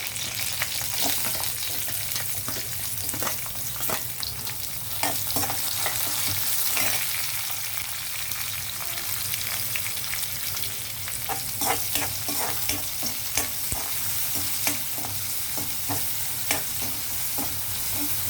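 Onions sizzle loudly in a hot pan with chillies and cumin for a mixed vegetable fry, a continuous frying hiss overlaid with repeated scraping stir strokes throughout.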